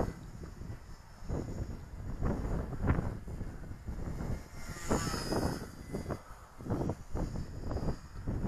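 An XK K110 RC helicopter flies outdoors on a windy day, its thin high rotor whine faint beneath heavy, gusty wind rumble and buffeting, with no talking.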